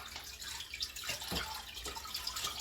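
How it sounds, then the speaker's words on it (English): Water poured onto an orchid potted in moss, a soft continuous trickle and splash with a few brief louder pours, close by and alone without talk. "So let me give her some water."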